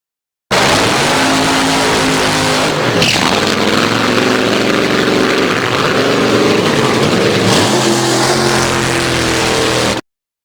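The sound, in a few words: dragster engine revving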